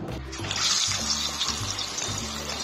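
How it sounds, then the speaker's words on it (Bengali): Banana flower dumplings fry in hot oil with a steady, close hissing sizzle. A low background hum runs underneath. "মোচার ধোকাগুলো দিয়ে দিচ্ছি, এবার এগুলো ভেজে তুলে নেব।"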